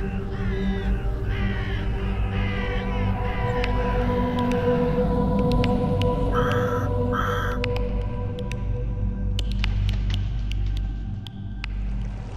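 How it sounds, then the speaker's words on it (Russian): Rooks caw at their nests in spring, repeated harsh calls over a steady low rumble and a dense bed of other birdsong, with a few sharp bursts near the end. "Возвращаются к своим гнездам грачи."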